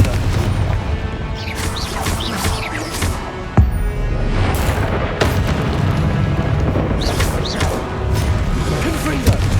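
Confringo blasting spells exploding in Hogwarts Legacy, a dense spell-battle din of repeated booms and crashing impacts, with one sharp blast standing out midway, under continuous loud combat noise and spoken voices.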